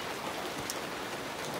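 Steady rain patters on a porch, a dense, even hiss of drops with no voices, close and continuous throughout.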